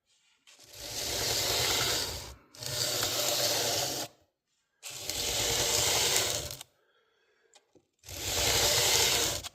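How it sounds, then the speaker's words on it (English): Four long bursts of rough scraping as a sanding block rubs back and forth across the frets of a 1965 Kawai Kingston guitar, separated by short pauses. "we're just taking a sanding block here, making some passes across there"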